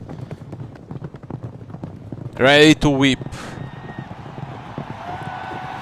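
Galloping hoofbeats from a horse racing video game run in a steady rapid rhythm beneath continuous talk, with a brief loud neigh-like cry partway through.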